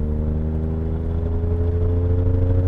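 A car engine, in a drag race between a Bricklin and a DeLorean, droning loud and steady in a close, sustained hum as it downshifts while passing.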